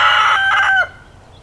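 A single loud, close chicken call rings out for under a second, then breaks off into near silence.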